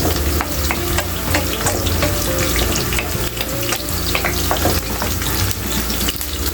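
Onions and string beans sizzle in a hot pan for adobong sitaw, a steady, close frying crackle broken by repeated scraping and clinking of a stirring utensil.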